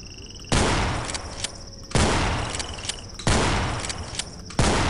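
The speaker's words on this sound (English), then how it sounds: "I pulled out my shotgun so I could deal with these guys" Four loud, close shotgun blasts boom out at a steady pace inside the horror video game Afraid of Monsters. Each one bursts across a wide band and then decays, with faint clicks and metallic ticks sounding in between.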